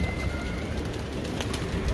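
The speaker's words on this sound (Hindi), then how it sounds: "रश लगा हुआ नीचे कबूतरों का," A flock of pigeons gathers below, their soft cooing and occasional wing flutters sounding close and steady in a brief burst of bird noise.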